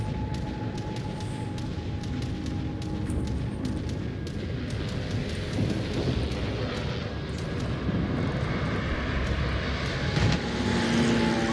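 World of Warships warplanes drone steadily overhead in a naval battle. The engine rumble is thick and continuous, with sharp crackling gunfire bursts and deep booms scattered throughout.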